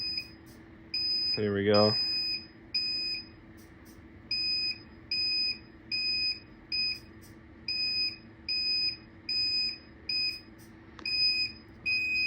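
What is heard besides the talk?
thermal radar security system buzzer beeping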